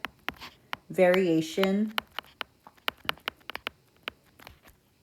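A pen writing notes, a series of quick, light scratching taps scattered across the clip, near and fairly faint, with a short spoken word partway through.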